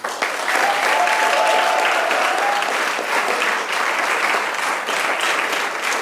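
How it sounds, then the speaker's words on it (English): A school audience applauds teachers and students at an Equality Week event, steady dense clapping from a crowd holding at an even level throughout, with a brief faint tone early on. "give a round of applause for all the teachers, the students, and everybody that's made this week a reality"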